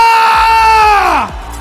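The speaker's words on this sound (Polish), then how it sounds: "Takiego krzyku jeszcze nie słyszeliśmy w wykonaniu Dara lwa" A fighter at a Fame MMA event lets out a loud, sustained, strained scream that falls in pitch and breaks off, with crowd noise behind it.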